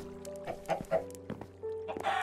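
Chickens clucking in a video game, a few short close clucks and squawks in quick succession over a faint tonal background.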